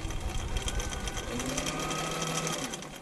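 Husqvarna Viking 6460 sewing machine stitching at a six mm stitch length, a close, steady rapid mechanical whir and needle chatter running continuously for a few seconds, with no talking.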